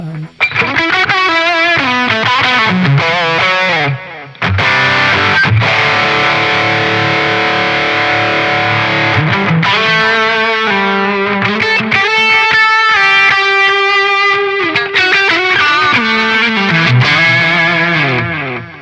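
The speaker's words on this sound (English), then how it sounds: "I can also switch on the tape echo." Electric guitar played through a Zoom MS-50G multistomp with tape echo switched on: distorted chords and note runs with repeating echoes, loud and unaccompanied for the whole stretch.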